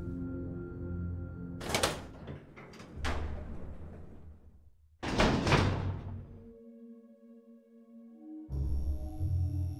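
A heavy door in Resident Evil Zero scrapes and thuds open in a couple of loud bursts, separated by quiet low droning and a brief electronic tone.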